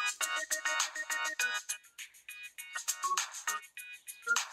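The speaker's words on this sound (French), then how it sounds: "ça c'est les sons livrés par défaut avec le téléphone" Default ringtone on a Huawei Honor 6C smartphone: a bright, bouncy synthesized melody of quick repeating tonal notes with a steady rhythm, played clearly and alone.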